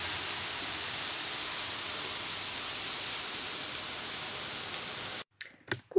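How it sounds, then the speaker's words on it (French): Heavy pouring rain makes a dense, steady hiss for about five seconds, then stops abruptly and a few faint handling noises follow. "Il pleut à verse."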